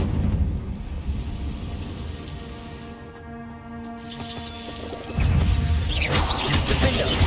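A Confringo blasting spell goes off in Hogwarts Legacy, bursting with a loud crackling crash around the five-second mark over steady game ambience and a low musical drone.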